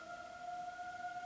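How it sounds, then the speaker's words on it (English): Distant sirens wail during a monthly siren test, two steady tones sounding faintly and continuously with no other sound over them. "we're getting sirens. It happens once a month here."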